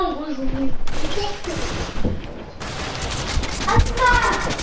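Video game gunfire rattles in quick volleys, fairly loud, with people talking over the shots.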